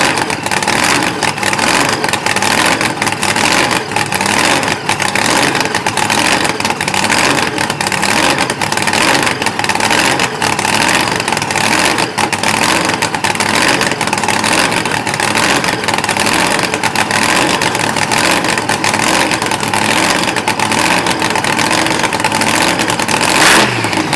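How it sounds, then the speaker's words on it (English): A blown, fuel-injected big-block Chevy in a Chevy Nova funny car running on alcohol roars loud and close without a break, its engine revving and rumbling hard for the whole stretch. "this one has a blown and injected big block Chevy"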